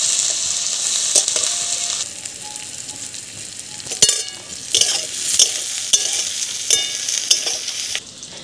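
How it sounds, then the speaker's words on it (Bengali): Two medium onions, finely chopped, sizzle in hot oil for a fish curry with pointed gourd, a steady bright hiss broken by scraping stirs and a few sharp spoon knocks on the pan. "পেঁয়াজটা দিয়ে দিলাম। দিয়ে ভালোভাবে পেঁয়াজটাকে ভেজে নেব।"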